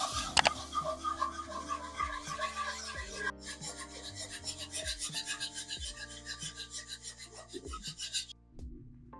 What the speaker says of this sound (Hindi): फिर इसमें डालेंगे दूध और साथ साथ मिक्स करते जाएंगे।